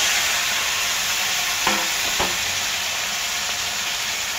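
Pre-fried tilapia goes into a pan of oil sizzling with black cumin seeds and dried chillies for a mustard fish curry. The steady hiss carries on, broken by two brief clattering knocks.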